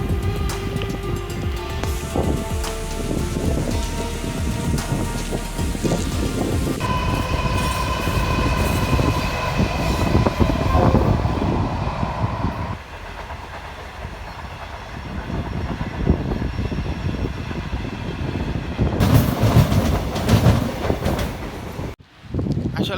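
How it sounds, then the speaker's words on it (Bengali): A train rumbles loudly past a station platform in South Australia, its sustained roar and rattling wheels continuing for over twenty seconds, shifting in tone as carriages pass before it cuts off near the end. "এটাই হচ্ছে ওদের ট্রেন স্টেশন।"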